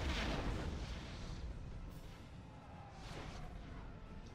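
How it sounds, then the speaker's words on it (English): A loud, dense rumbling roar of explosions with crackling debris in the video game Star Wars: The Force Unleashed, continuous rather than separate blasts, easing slightly before swelling again. "Ooh, I can make explosions!"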